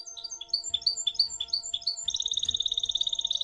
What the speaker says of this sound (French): il entendit chanter sur la colline comme un chant de différents beaux oiseaux